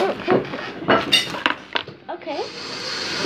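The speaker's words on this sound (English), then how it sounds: "It's my mom washing her hands." Kitchen background noise of someone washing hands and potatoes: irregular clinks and clatter of dishes and utensils, followed by a steady rush of running water, fairly close.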